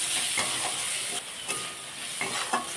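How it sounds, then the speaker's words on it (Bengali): Spice masala with coriander and cumin powder sautéing in a pan, a soft steady sizzle broken by several scraping stirs of a spatula at irregular intervals. "ধনে গুঁড়ো, জিরে গুঁড়ো, সব কিছু ভালো করে কষিয়ে নেব"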